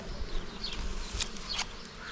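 Honeybees buzz around a weak hive tended by a beekeeper outdoors, a faint, steady drone with a few passing bees flying close by.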